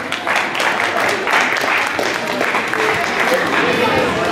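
An audience claps and cheers to congratulate someone at a digital, video game and cosplay event, with dense applause swelling in waves and voices mixed in.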